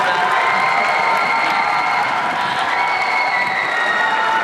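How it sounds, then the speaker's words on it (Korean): A large audience at a Busan International Film Festival open talk applauds and cheers steadily and loudly throughout, a continuous wash of clapping mixed with shouts and whoops. "여러분 큰 박수 부탁드립니다"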